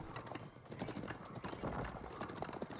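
Rapid clip-clop of horse hooves from the video game Age of Empires 4, dense and continuous, with a bustling mix of other battle activity layered around it.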